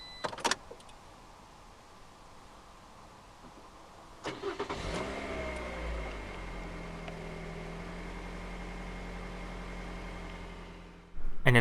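A 2016 Toyota Verso 1.8 Valvematic Trend starting up: a brief click, then a starter crank around four seconds that catches into a steady, smooth idle close by, ending with a louder bump.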